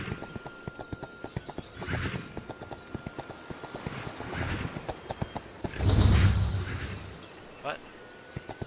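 A horse in the fantasy video game Astellia: close, steady clip-clop of hooves with a whooshing swell and a whinny partway through, heard without talk.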